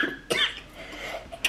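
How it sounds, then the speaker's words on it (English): A child coughs in a quick burst of two or three short, dry coughs indoors, close and fairly loud, with no talking over it. "Cover your mouth when you cough."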